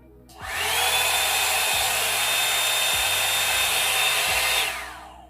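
A Revlon Salon One Step hair dryer volumizer on its cool setting whirs up, blows with a steady loud roar for about four seconds, then winds down, with faint thumps underneath.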